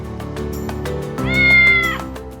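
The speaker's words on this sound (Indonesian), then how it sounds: "siapa lagi kalau bukan si kucing meong-meong. Miau, miau." A domestic cat meows clearly and close up, one drawn-out, rising and falling meow over a background of rhythmic music.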